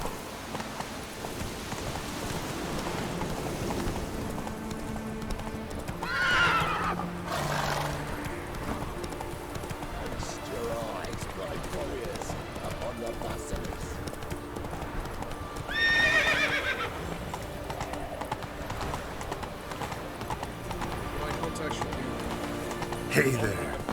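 Geralt's horse Roach gallops in The Witcher 3: Wild Hunt with steady rhythmic hoofbeats throughout, two loud whinnies standing out, and rain pattering underneath while voices speak intermittently over the sound.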